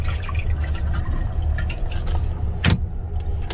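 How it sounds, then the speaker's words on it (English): Water drains from a small sink in an Amtrak Silver Meteor train roomette, a low, steady gurgling wash under the rumble of the moving train, with one sharper splash near the end. "The water just goes right through there."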